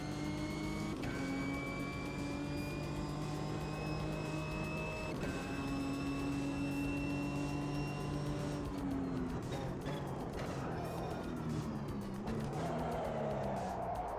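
A race car in the Automobilista 2 racing sim oversteers on throttle, its engine a loud, steady whine that rises and falls in pitch, with rough tire scrabbling and shifting revs toward the end.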